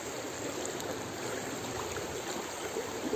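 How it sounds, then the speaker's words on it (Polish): Water of the Vistula river at Goczałkowice rushes in a soft, continuous hiss, faint and steady with no voices. "Woda szumi."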